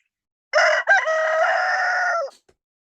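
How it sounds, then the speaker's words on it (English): One loud, close rooster crow from a large, angry rooster kept with hens and a guinea fowl, a short opening note followed by a long sustained call, alone against silence. "That's actually the angry rooster."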